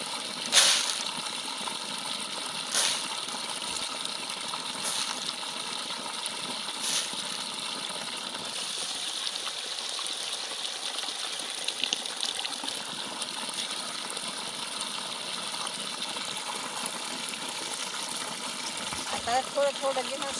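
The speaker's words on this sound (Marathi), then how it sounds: "आता मी बादलीत ओतले." Rinse water from washed urad dal poured into a bucket in a home, a continuous splashing gush with a few sharp knocks and clinks near the start.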